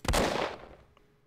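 A single loud, booming gunshot in a video game, with a sharp blast that rings out and fades over about a second.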